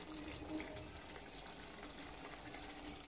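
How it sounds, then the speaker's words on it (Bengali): Water pours into a pot of chicken and potato curry with a steady splashing gush, continuous and fairly quiet, running for about three seconds before stopping abruptly. "অল্প কষে নিয়ে এবার আমি এর মধ্যে জল দিয়ে দেবো"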